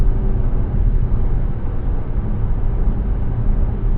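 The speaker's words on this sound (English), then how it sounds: "Now 130, I can mostly hear tire noise." Steady road and tire roar inside a BYD Seal U DM-i 2025 AWD plug-in hybrid cruising at 130 km/h at night, a continuous low broadband rumble with no talk.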